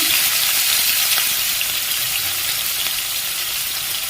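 Chopped onions and capsicum hit a hot pan with cumin and mustard seeds for a capsicum paneer curry, giving a steady, loud, close sizzle of frying that fills the whole stretch without pause.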